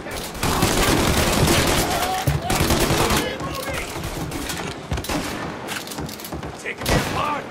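Gunfire rattles through a shootout in the video game Mafia: Definitive Edition, with dense overlapping shots and booms filling the scene while a voice talks over the action.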